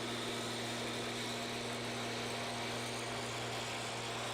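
A combine harvester engine runs steadily in a crop field, a constant close mechanical drone with a strong low hum and broad high-pitched whine, unbroken and alone with no talk.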